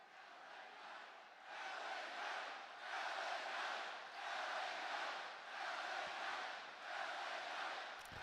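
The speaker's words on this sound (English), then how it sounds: "This is the best I've heard LA Knight get cheered in a while." Arena crowd at a Friday Night SmackDown wrestling show cheering for wrestler LA Knight, a broad roar that swells in repeated waves, steady and fairly distant with no clear talk.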